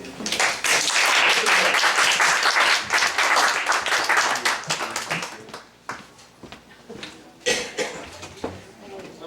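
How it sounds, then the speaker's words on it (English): An audience at Bob's applauds performer Johnny Hunt: loud, dense clapping that gradually thins into scattered claps, with voices mixed in. "give a big round of applause to Johnny Hunt"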